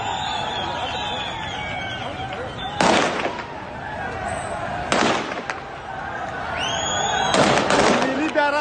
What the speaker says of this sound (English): Gunshots could be heard in the background as protesters dispersed from the area.